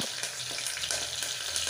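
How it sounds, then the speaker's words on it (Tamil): Curry leaves and mustard seeds deep frying in hot oil for a bitter gourd curry, a dense, steady crackling sizzle with small popping bursts throughout, close and continuous with no talk. "கடுகு நல்லா பொரிஞ்சு வர டைமுக்கு நம்ம எடுத்து வச்சுருக்க கறிவேப்பிலையை போடப்போகிறோம்"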